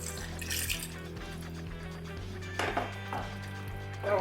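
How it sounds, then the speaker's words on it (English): Water poured into a simmering pot of Nigerian buka stew in a home kitchen, a soft steady liquid splash with faint clinks of the pot, close and moderate in level, with no talking. "so we are going to add a little more water to it."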